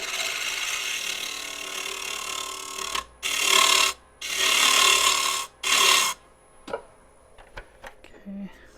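Gouge taking a pull cut on a cored wooden bowl spinning on a lathe: three loud bursts of scraping wood-cutting noise, each about a second long, then a few faint knocks and small tool sounds.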